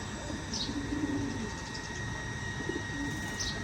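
Faint low coos from Ferozpuri pigeons surface briefly over a constant hum, with occasional high chirps.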